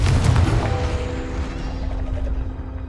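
A Confringo spell blast in the Hogwarts Legacy video game, a loud booming explosive burst with heavy low rumble that fades away over a few seconds.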